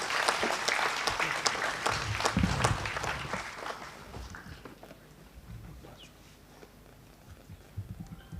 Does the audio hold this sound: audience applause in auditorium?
yes